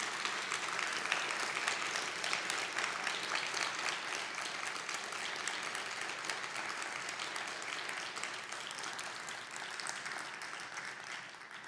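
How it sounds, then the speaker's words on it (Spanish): An audience applauds in solidarity with a woman called la güera, a sustained, even wash of clapping at moderate distance that continues for over ten seconds, fading slightly toward the end. "le den un aplauso de ánimo, de aliento y de solidaridad a la güera"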